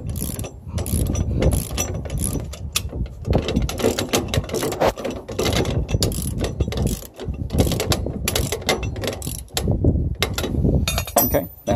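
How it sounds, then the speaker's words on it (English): A 9/16 inch bolt and nut on a fifth wheel hitch is tightened with a ratchet wrench, giving rapid close clicking strokes that run almost continuously. "this is a 9/16 inch bolt with nut, and just need to tighten this in place."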